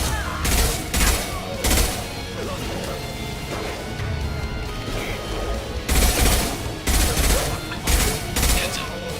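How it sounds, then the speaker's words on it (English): Heavy gunfire in Mass Effect Legendary Edition, loud clustered bursts of shots and crashing impacts with a quieter stretch in between, while a voice speaks over the combat. "Taking heavy fire!"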